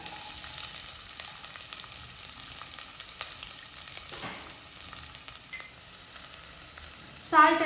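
Sliced medium-size onion frying in hot oil for a Hyderabadi horsegram chicken dum biryani, a steady soft sizzle throughout with a brief louder stir or clatter near the end, no talking.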